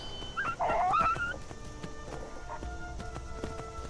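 A wolf in the game Skyrim lets out a short snarling growl early on, then quieter footsteps and clatter continue under faint ambient game sound.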